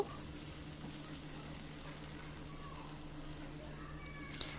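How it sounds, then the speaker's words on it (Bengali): Puris for bhelpuri fry one at a time in a small amount of oil, making a quiet, even sizzle with occasional soft pops and crackles throughout. "এই একইভাবে আমি সবগুলো ভেলপুরি ভেজে নেব"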